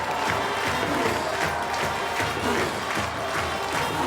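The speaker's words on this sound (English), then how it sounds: "The crowd response never gets old at these games, especially the student sections down there." A large crowd at a high school football game, Massillon Tigers versus Canisius Crusaders, with a student section, applauding and cheering in a steady dense roar that fills the whole stretch, loud and continuous.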